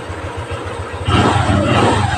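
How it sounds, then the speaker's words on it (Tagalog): A Honda Click V2 motor scooter engine idles with a steady low throb, then revs up sharply and holds a louder, rougher roar close by, at a motorcycle shop. "Ganda ng tunog, oh. Hingang-hinga ngayon ng makina"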